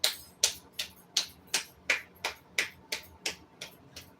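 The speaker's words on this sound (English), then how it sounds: "You get a hand clap." A single person claps hands about a dozen times in a steady rhythm, each sharp clap close and distinct, with quiet gaps between.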